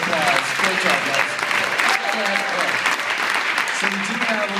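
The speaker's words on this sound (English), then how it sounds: "let's give them a big round of applause" A Sundance festival audience gives sustained applause after a Linsanity screening and Q&A, thick continuous clapping from a full house with voices and cheers mixed in beneath it.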